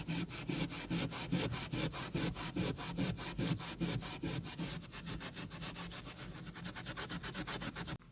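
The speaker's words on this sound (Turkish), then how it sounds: "En son zımparaladık bu şekilde." Hand sanding a repaired, filled crack on a Toyota Corolla dashboard, a rapid rhythmic back-and-forth rasping of about two strokes per second, close and steady throughout without any speech.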